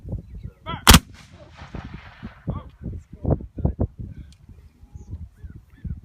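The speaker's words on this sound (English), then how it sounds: "Sir, go ahead, fire by rank." Musket volley at a Yorktown historical reenactment: one sharp, loud crack is followed by a long echoing roll. Several fainter pops and thumps come after it, with a voice heard in the background.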